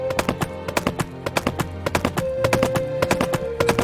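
Horse hooves clip-clop steadily uphill toward a waterfall area in a farming video game, a quick even rhythm of close, distinct thuds with a sustained musical tone running underneath.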